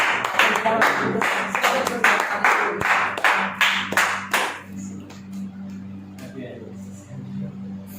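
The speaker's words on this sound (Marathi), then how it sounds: "आपण सर्वजण टाळ्या वाजवून आपण त्याचं स्वागत करूया." A church congregation claps in a burst of applause for about five seconds at an anniversary celebration, dense and close, then it fades into a low steady hum with scattered faint sounds.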